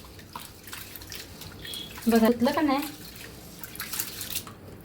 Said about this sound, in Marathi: असं घासून घासून स्वच्छ धुवायचं तांदूळ